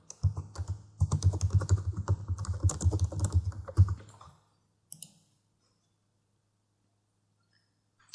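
Rapid typing on a computer keyboard, close and clear, with a steady patter of key clicks for about four seconds, then a few isolated taps and silence.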